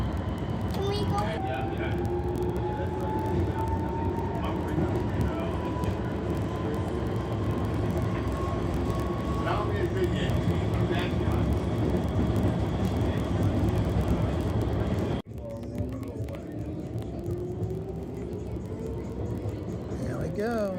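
Norristown High Speed Line trolley pulling out of a station, a steady rolling rumble with rising motor whine that builds and then drops as the car moves off, with people talking over it.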